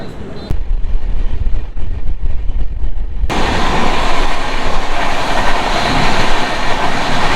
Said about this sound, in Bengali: আমাদের ট্রেন এই মুহূর্তে হচ্ছে 45 মিনিট লেটে শালিমার স্টেশন থেকে বেনারসের উদ্দেশ্যে রওনা দিল